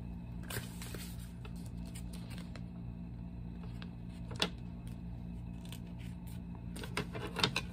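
Scissors cut a small piece of transfer paper for a Christmas sign craft, giving a few quiet crisp snips spread over steady low background hum, with no voices.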